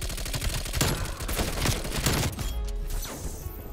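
Suppressed Bullfrog SMG fire in Call of Duty: Cold War: dense, continuous bursts of muffled rapid shots with overlapping in-game effects, held at a moderate level throughout.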